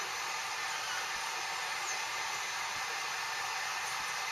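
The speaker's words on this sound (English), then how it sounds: "heat it up with a heat gun" Steady, close hiss and whoosh of a heat gun warming KeelEazy keel protection tape, an unbroken blower tone with no pauses.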